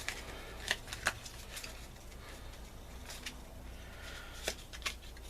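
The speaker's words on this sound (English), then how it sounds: "these would get shuffled" Playing cards are shuffled softly, with bursts of riffling flutters and brief snapping ruffles repeating at close range in a quiet room.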